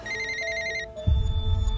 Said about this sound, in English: Elizabeth's phone rings.